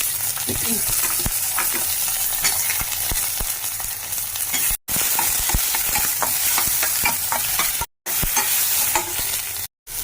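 Eggplant sizzles steadily in a hot pan with dried chillies and garlic while a spatula scrapes and stirs it, with a few brief pauses in the sound.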